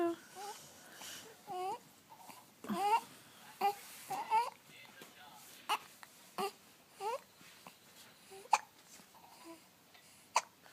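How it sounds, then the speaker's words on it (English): A baby hiccups again and again in short, sharp bursts at irregular intervals, mixed with soft whimpers and babbling, heard up close in a quiet room. "Uh-oh, you have hiccups now."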